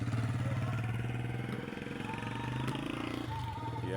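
A 125 motorcycle passes nearby outdoors, its engine hum steady and then rising in pitch as it revs, with people talking over it.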